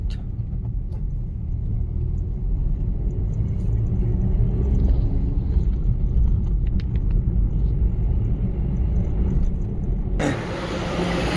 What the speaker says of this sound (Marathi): भरपूर गाड्या लागल्यात.